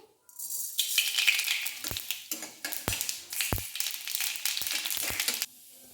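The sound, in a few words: mustard seeds added to hot mustard oil in a wok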